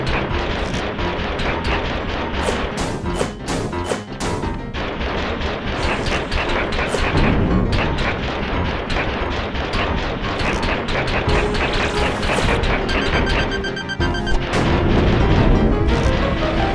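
Gunfire while shooting at a boss in the video game Alisa, dense booming shots and blasts layered with game effects and music, loud and continuous throughout.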